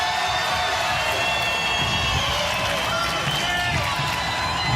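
A wrestling arena crowd roars steadily in approval, a continuous dense wash of cheering and shouting, with a commentator's voice running over it.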